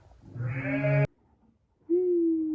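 Newborn lambs and ewes bleating on a village farm: a loud wavering bleat for about a second, a short pause, then a second steady, higher bleat, close and clear with no talk.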